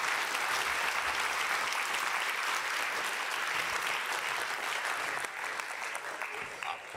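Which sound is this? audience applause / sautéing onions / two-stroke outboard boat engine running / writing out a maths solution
audience applause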